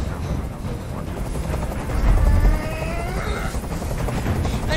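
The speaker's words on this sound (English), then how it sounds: "Tell that helicopter to get out of here." A helicopter hovers overhead in the video game Detroit: Become Human, its loud, steady rotor roar filling the scene with a brief swell near the middle.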